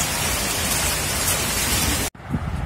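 Heavy rain pouring in Shimla, a dense, loud, steady hiss that cuts off briefly near the end and then resumes, with no talking.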